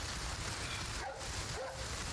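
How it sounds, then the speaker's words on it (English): A dog barks a couple of times in Resident Evil 4 Remake, faint and somewhat distant, with short yelps rising over a steady hiss of game ambience. "I heard him barking, didn't see him."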